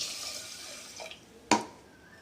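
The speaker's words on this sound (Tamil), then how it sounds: "ஒரு டம்ளர் பச்சரிசிக்கு மூணு டம்ளர் தண்ணி ஊற்றணும்" Water being poured over raw rice and lentils in a pot while making sweet pongal, a soft steady pour that ends in a sharp splash and a short trickle.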